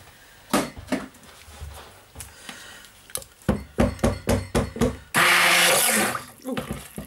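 A stick blender churns apple butter caramel silk soap batter in a series of short, loud whirring bursts, then one longer sustained buzz, with clinks and scraping between.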